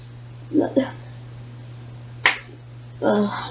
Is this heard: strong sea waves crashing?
no